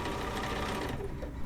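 A small, lightweight Bernina sewing machine stitching quilt block pieces, a steady close whirring hum of continuous running without pause, fairly quiet.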